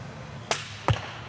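Two sharp arrow shots at a women's barebow archery final at the Lancaster Archery Classic, a crisp snap about halfway through followed quickly by a louder, fuller release, with no talk over them.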